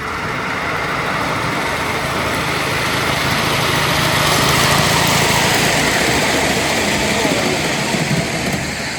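A 3.5 inch gauge model of a South African locomotive running at a model engineering event, giving a steady, close, continuous mechanical chuffing and rumbling that holds level throughout with a slight swell midway.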